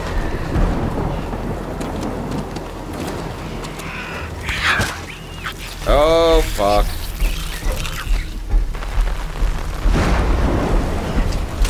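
Heavy rain pours steadily in the Death Stranding game while rolling thunder rumbles through the downpour. A voice cuts in briefly partway through.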